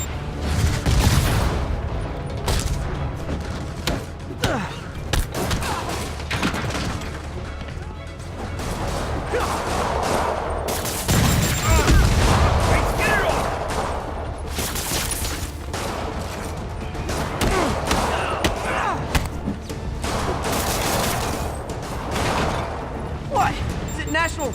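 Rockets fire and explode during a Spider-Man video game boss fight, a dense barrage of loud booms, crashes and impacts over thick background score. Voices speak at times amid the chaos.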